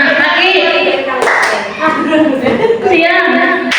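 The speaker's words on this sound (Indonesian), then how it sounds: "Tepuk siang, tepuk pagi, tepuk malam Bu ya." Hands clap in a children's clapping game led by a teacher, a run of quick claps mixed in with voices chanting and talking over them.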